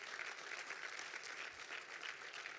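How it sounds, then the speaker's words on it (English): An audience at a trade show competition claps steadily for contestants and judges, a dense even applause heard from within the crowd, fairly quiet and without talk. "Can we get another round of applause for our contestants as well as our judges?"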